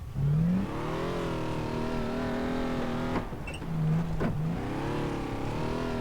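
A car engine in Far Cry 3 drones steadily as the vehicle is driven, rising and falling in pitch with brief revs and shifts, close and continuous without talk.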